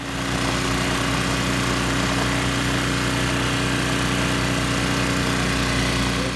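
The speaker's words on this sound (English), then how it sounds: "I did a lot of work with the snowblower" Snowblower clearing snow about three feet deep near a cabin, a loud continuous engine roar with a steady hum and no breaks, close by and alone.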